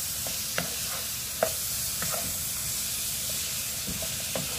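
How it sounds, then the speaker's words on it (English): A white sauce for spaghetti is stirred in a pan, giving a steady soft sizzle and hiss with a few louder scraping strokes of the spoon against the pan, heard close and without talk. "Continue stirring."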